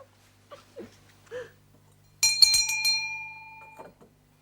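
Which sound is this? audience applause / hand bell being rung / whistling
hand bell being rung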